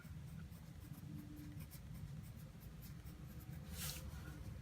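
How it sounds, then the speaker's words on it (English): A pencil scratches across paper in soft, continuous strokes, quiet and close, over a steady low rumble of a garbage truck in the background. "is write down the name. I can't find a pencil."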